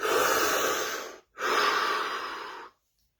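Two long, deep breaths sound close and clear, each a drawn-out airy rush of about a second with a short pause between them, then quiet.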